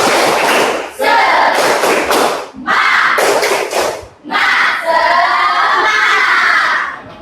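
Schoolchildren perform a rhythmic 'tepuk semangat' clapping chant in a classroom, loud group shouts and claps in several bursts with brief pauses between, close and energetic.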